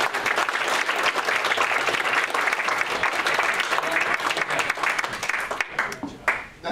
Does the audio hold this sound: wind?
no